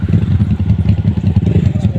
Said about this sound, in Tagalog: Tig-isa kami ng sasakyan na motor.